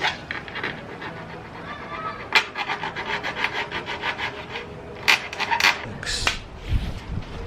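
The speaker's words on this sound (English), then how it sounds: "get a file and just deburr the edges" A metal file deburring the cut edges of a part for a Super73 electric bike dual battery switch install, rhythmic close rasping strokes in quick repeated passes, with a few louder scrapes near the end.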